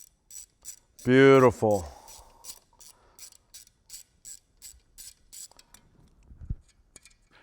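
Ratchet socket clicking in quick repeated bursts while backing a stripped hex bolt out of a rotor, close and crisp, with a brief spoken word partway through.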